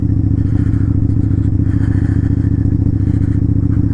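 A Harley motorcycle engine runs close by while being ridden through a snowy blizzard, a loud, steady, deep throbbing rumble with a rapid pulsing firing rhythm and no talk.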